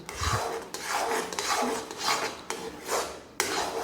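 Rhythmic scraping of a spatula against a pan stirring thick almond halwa, repeated strokes about every half second, close and fairly loud, with no talking.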